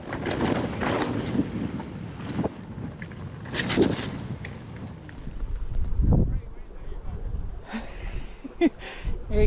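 Strong gusts buffet the microphone on an open moorland bridleway while mountain bikers ride down a valley, a steady roar rising and falling up close, with occasional voices.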